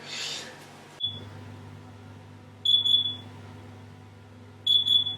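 An oven timer for baking sourdough bread sounds two short bursts of high electronic beeps a couple of seconds apart, each a quick cluster of pips over a low steady hum, with no speech.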